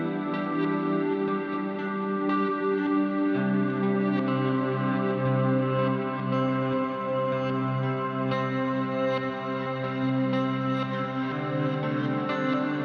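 Clean electric guitar played through a DelayJaVu delay and a huge reverb, sustained chords ringing and washing together with long echoing tails, steady and alone for the whole stretch.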